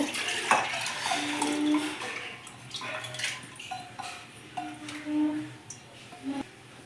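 Dal and pieces of raw mango, green chilli and tomato being added into a pressure cooker for tangy mango dal, with metallic clinks and scrapes of utensils against the pot, close and fairly loud, in irregular bursts.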